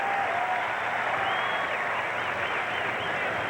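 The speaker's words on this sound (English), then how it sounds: "the Cincinnati crowd is still arriving, and they applauded the strike by the rookie pitcher, Chris Hammond" Steady applause from an arriving Cincinnati baseball crowd at a 1990 Reds–Pirates game, cheering a strike by rookie pitcher Chris Hammond; even, sustained clapping with a faint whistle.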